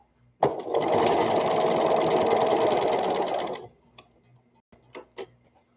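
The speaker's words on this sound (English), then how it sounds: "So you're going to sew all the way around to within an inch of where you started" A sewing machine runs close and loud for about three seconds, stitching a seam around a toddler peasant dress, then stops, leaving a few soft clicks and taps afterwards.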